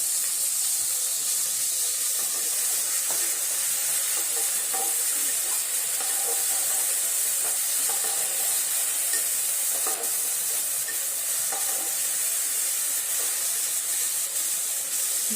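Chopped tomatoes and a splash of water hitting hot oil for a West Bengal dhokar dalna give a loud, steady sizzle and steamy hiss, with occasional stirring scrapes, and no voices.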